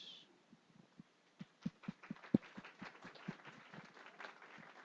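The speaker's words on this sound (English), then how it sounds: "please join me in welcoming our guest with a very warm" A small audience at an English-language event gives scattered, light applause to welcome a guest speaker. The claps come as sparse, uneven bursts that build briefly and then taper off.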